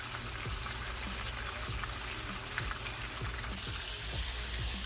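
Fish frying in hot oil, a steady close crackling sizzle with scattered pops that runs on without a break.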